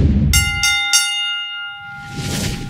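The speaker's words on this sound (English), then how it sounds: "Let's ring the bell and find out." A bell is struck three times in quick succession, bright metallic rings close and loud, then a clear tone lingers and fades with a noisy rustle underneath.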